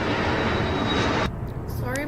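Airplane near an airport roars as a loud, steady broadband engine rumble, cutting off sharply partway through to leave a quieter background with faint voice-like traces.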